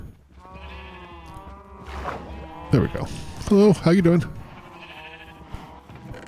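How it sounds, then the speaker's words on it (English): Sheep bleating in Minecraft, several loud, wavering bleats bunched in the middle of the stretch, with a person talking casually before and around them. "I think I'm gonna shear my sheep."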